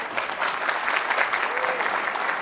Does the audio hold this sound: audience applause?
yes